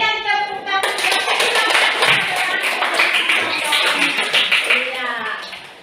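Students in a junior high classroom clap their hands together, a dense burst of applause starting abruptly about a second in and continuing steadily, with some voices mixed in.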